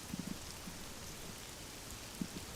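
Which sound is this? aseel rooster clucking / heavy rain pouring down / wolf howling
heavy rain pouring down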